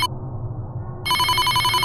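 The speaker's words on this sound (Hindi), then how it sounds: "तभी अचानक घर के फोन की घंटी बजने लगी।" A home telephone bell rings loudly and close, a bright shrill electronic trill that starts abruptly after a brief low hum and continues steadily to the end.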